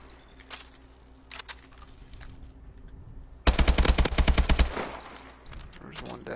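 A loud burst of rapid automatic gunfire aimed at sentry guns in the sci-fi shooter Exo Survival, preceded by scattered quieter game clicks and shots, with a brief fading echo after the volley.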